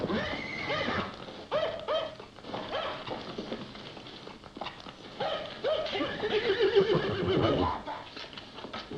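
A horse neighs and whinnies repeatedly in an old western film sequence, shrill, wavering calls over hoof clatter and a busy soundtrack, with a dog also heard and voices in the mix.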